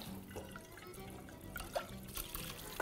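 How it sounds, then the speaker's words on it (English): Cold tap water runs over zucchini in a kitchen sink, a soft steady trickle with drips and splashes, fairly quiet and close. "Allow the cold water to run through it very, very briefly"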